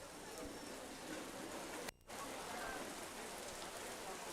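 Steady rain pours down outside during a primary school award ceremony, a constant close hiss of drops on surfaces with one brief dropout, no voices clearly heard.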